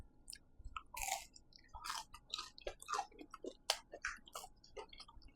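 Crisp pizza crust cooked on a Uni Volt 12 indoor-outdoor grill is bitten and chewed, giving a close, quiet run of irregular sharp crunches and crackles.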